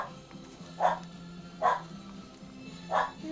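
Four-week-old French Bulldog puppies give three short, quiet yips, spaced about a second apart, over a low background hum.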